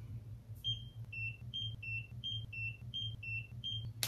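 A handheld skincare device emits a series of about ten short, evenly spaced electronic beeps while being used around the eye, faint and clean over a low hum.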